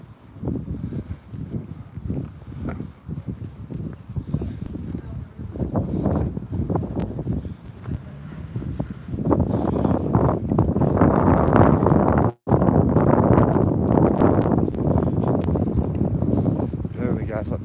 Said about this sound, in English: On a bit of a windy stretch here.